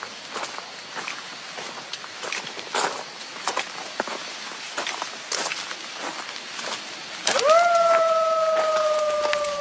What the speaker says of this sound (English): In the video, a howl can be heard, and the person thinks it might be demonic.